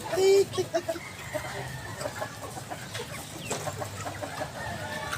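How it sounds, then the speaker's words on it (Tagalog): Chickens cluck and chatter in a busy flock, with scattered short calls over a steady farmyard background. "andito ako ngayon nagpapakain ng mga manok."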